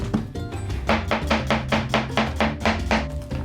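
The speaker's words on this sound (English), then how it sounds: "Next, I will peel and slice one red onion." A knife slices a peeled red onion on a cutting board in steady, evenly spaced strokes, roughly a dozen close, crisp cuts in a brisk rhythm, with no voices.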